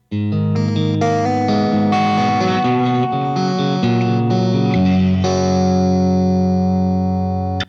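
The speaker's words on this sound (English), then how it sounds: "It sounds really nice if you play chords with it and don't even use the pick." Electric guitar chords plucked softly with the fingers on an HSS guitar's neck-middle pickup position, several changes in a row, the final chord left ringing.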